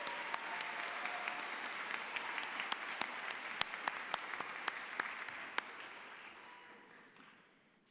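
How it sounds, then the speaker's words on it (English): Audience applause fills the room at a December college commencement ceremony, a steady crowd clapping with sharp individual claps standing out, gradually tapering off toward the end. "Let's have a round of applause for Orbit Media."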